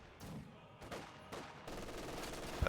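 Infantry gunfire in a World War II strategy video game, several sharp bursts of rifle and machine-gun shots at irregular intervals, followed by a denser rattle of fire toward the end.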